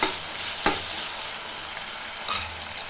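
Onion and tomato fry in oil with a steady close sizzle and crackle, broken by a couple of sharp stirring clacks against the pan.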